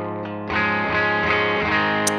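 An electric guitar plays a sustained chord through two combined amps, one slightly distorted, ringing full and rich after a brief quieter note.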